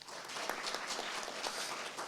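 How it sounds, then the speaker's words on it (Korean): Soft, distant audience applause at a data innovation forum on sustainable development goals: a continuous patter of many hands clapping at low level for about two seconds. "다시 한번 박수 부탁드립니다"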